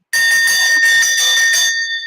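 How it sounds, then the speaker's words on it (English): Bell ringing, a loud close bright metallic ring that sounds steadily for about a second and a half and then fades into a ringing tail, alone with no voices. "That is a really cool bell."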